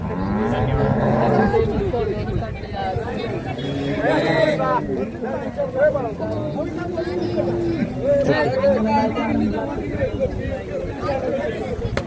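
At a bustling livestock market in Karad, Satara, where cows, bullocks and buffalo are traded, a cow lows a few times over close conversation and a steady murmur of crowd noise.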